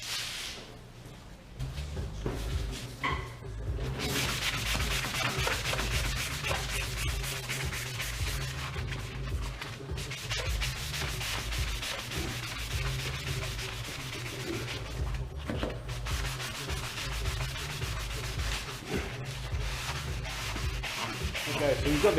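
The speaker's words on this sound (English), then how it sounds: "we're ready to start sanding" Steady, continuous abrasive rubbing of sanding on a car body panel, loud and close, with a low motor hum underneath and brief pauses around the three- and fifteen-second marks.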